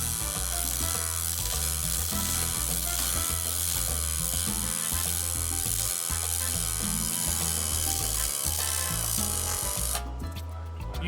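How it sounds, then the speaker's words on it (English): Pulse MIG welding in a training shop, a steady loud buzzing crackle with a fine rhythmic pulsing texture that holds evenly throughout and shifts character briefly near the end. "here he's going to give us a great example of the pulse MIG"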